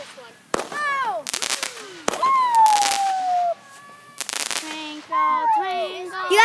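Fireworks bang and crackle in several sharp bursts with rising and falling whistles between them, close and loud, with people's voices mixed in.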